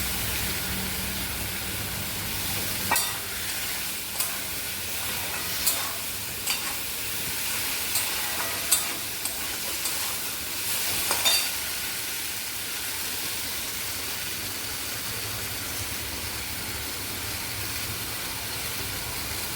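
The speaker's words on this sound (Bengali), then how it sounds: "ভেন্ডি ভাজাটা দিয়ে দিলাম।" Fried okra stirred in a pan with mustard paste gives a continuous close sizzle. A series of spatula knocks and scrapes comes at intervals in the first half, then the sizzle continues evenly alone, with no voices.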